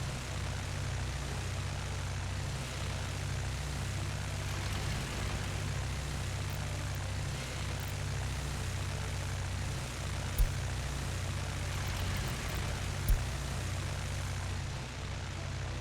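A propeller aircraft taxis off the runway at an airport in the city-building game Workers & Resources, giving a steady low engine drone with a faint hiss and a couple of soft clicks.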